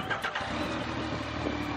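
Newly bought motorbike engine catching and settling into a rough idle, with a few sharp initial coughs followed by a steady mid-pitched throb, near and moderately loud.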